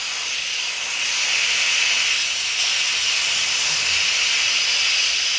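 Steam hisses steadily out of an Instant Pot pressure cooker during a quick release after cooking macaroni and cheese, a loud, continuous broadband rush with no pauses and no talking.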